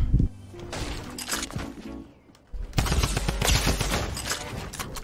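Shotgun blasts and other gunfire in the video game Fortnite, loud and dense, with a brief lull before the shooting resumes with sharp cracks.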